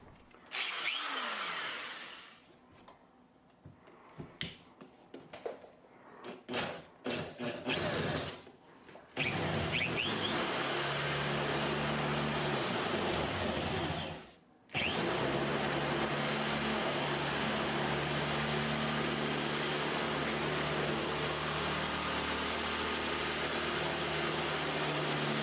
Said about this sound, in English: And now for the drill.